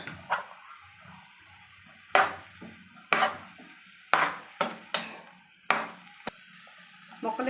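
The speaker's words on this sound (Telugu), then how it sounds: "ముక్కలు వేసుకుని మనం బాగా కలుపుకుందాం." Bottle gourd pieces frying in a pan are stirred with a utensil, making a series of sharp scraping strokes at an uneven pace over a faint, steady sizzle, heard up close.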